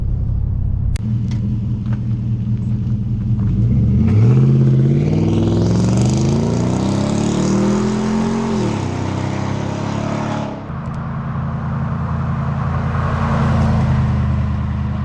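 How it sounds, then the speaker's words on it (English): A Nissan Titan pickup's aftermarket exhaust rumbles at idle, then roars through a hard acceleration with rising engine pitch before dropping back to a deep, steady cruising drone in a drive-by. "we'll do a takeoff, like a hard takeoff acceleration, and just a drive-by cruise, and you can hear it"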